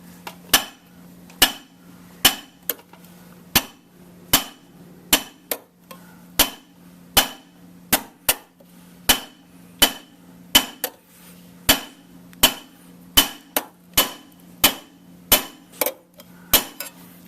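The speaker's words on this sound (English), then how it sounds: "when you're setting the edge, you go 1 hammer blow at a time" Sharp metallic hammer blows ring out one at a time, setting the edge of a copper bowl, about two per second in an even rhythm, close and crisp over a low hum.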